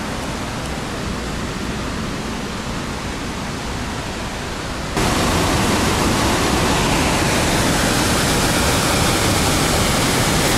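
Steady, loud water rushing through the brick ruins of the Porogi hydroelectric dam, a dense roar that grows noticeably stronger halfway through, with no voices.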